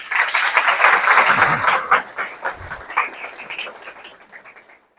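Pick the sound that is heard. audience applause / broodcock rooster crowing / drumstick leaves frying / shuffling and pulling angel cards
audience applause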